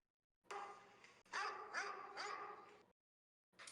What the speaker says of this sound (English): Those are dogs.